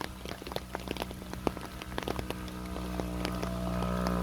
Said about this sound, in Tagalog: lakas ng ulan. Sobrang lakas to.